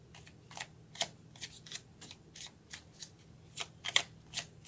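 Tarot cards being shuffled before a card is drawn: a series of quick, crisp riffling bursts, some sharper flicks standing out, close and fairly soft with no talking.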